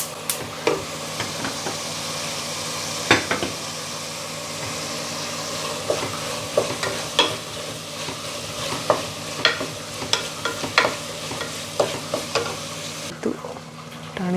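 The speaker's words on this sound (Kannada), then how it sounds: "ಆಲ್ಮೋಸ್ಟ್ ಫ್ರೈ ಆಗಿದೆ" Food fries in a pan with a continuous close sizzle, punctuated by frequent sharp scraping and tapping of a stirring spoon against the pan at an irregular pace.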